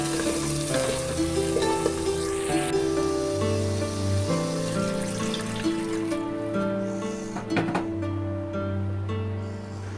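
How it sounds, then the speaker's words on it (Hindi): Water poured into a pot of browned, fried chicken pieces for pulao, the hot oil sizzling and frying steadily throughout with a brief splashy burst near the end, close and fairly loud with no talk. "और अब मैं इसमें डाल दूँगी पानी।"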